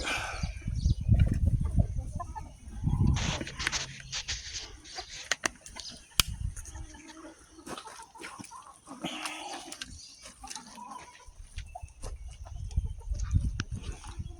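Chickens cluck and murmur in a muddy chicken run outdoors, a steady low flock chatter with occasional wing flaps and scattered louder calls, fairly close and without talk.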